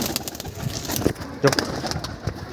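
Pigeons in a sky pigeon loft coo in short low murmurs, close by, mixed with rustling, wing flutters and a person talking over them.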